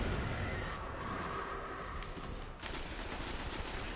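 Gunfire in the Destiny video game, a string of rapid shots and bursts, fairly faint and steady throughout.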